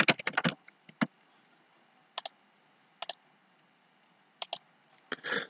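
Sparse clicks from a computer keyboard come in short bursts of one or two keystrokes separated by pauses, near and fairly crisp over a quiet room, ending in a quicker flurry of taps.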